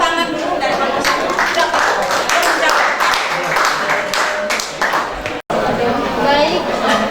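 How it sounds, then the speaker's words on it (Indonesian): Classroom audience clapping for a student group after their presentation, a busy run of individual claps mixed with chatter, briefly dropping out near the end before resuming. "Kita tepuk tangan dulu dari kelompok 1"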